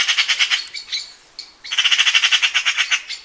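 A bird gives harsh, rapid squawking calls in quick pulsed bursts, a short pause, then another long rattling series, loud and close with no other sounds.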